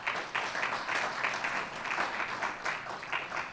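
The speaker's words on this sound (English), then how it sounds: "let's give them all a round of applause" A round of applause at a business association's annual meeting, many hands clapping in a steady, moderately loud wash that holds evenly throughout.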